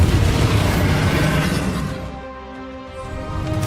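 A Bombarda explosion spell in Hogwarts Legacy erupts as a loud, full-bodied boom that rumbles and swells before easing into a lower, ringing tail, with no talk over it.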